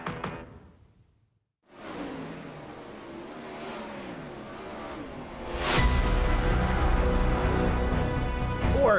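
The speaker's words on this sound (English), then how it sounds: "410 winged sprint cars all around the Limaland Motorsports Park as the warm-up session is almost complete" Winged 410 sprint cars roar around the dirt oval at Limaland Motorsports Park during warm-ups, a continuous engine drone that swells louder as cars sweep past nearby, after a brief near-silent gap at the start.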